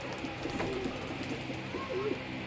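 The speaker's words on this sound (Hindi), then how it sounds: "अभी जो कबूतर काटने हैं, जो सीज़न उड़े हैं, वो भी आपको दिखाता हूँ" Flying pigeons give soft, repeated coos at night, a few rolling calls rising and falling over a low background hum, fairly faint and with no one talking.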